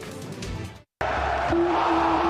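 Crowd noise at a sports event, a loud roar of voices and cheering that breaks off abruptly and then resumes as a sustained swell.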